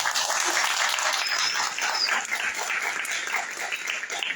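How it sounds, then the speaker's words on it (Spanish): An audience gives a speaker a warm round of applause, dense and sustained clapping from many hands filling the hall evenly before thinning slightly toward the end. "Les pido un fuerte aplauso"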